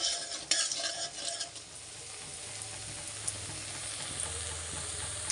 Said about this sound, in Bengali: আমি এখানে পেঁয়াজগুলো দিয়ে দিলাম, একটু লাল লাল করে ভেজে নেব